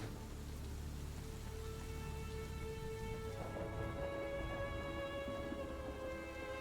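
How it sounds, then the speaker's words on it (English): Rain patters steadily against windows and hanging wood, a soft constant wash with low rumbling beneath and faint tonal hums coming in partway through. No one speaks. "you can hear the rain against the windows"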